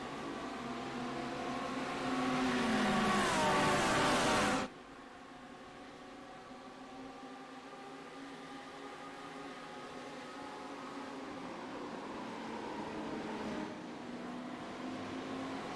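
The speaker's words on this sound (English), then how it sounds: "Green flag in the air. We're racing at Road America." GT3 race cars at Road America in a sim racing league, a blended drone of many engines revving after the green flag, loud at first, then dropping to a steadier distant roar.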